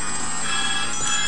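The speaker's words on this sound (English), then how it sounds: "So you can hear the phone in the background" A telephone rings in the background during Sonic 3 & Knuckles gameplay, its steady electronic trill sitting faint and continuous beneath the game's music and effects.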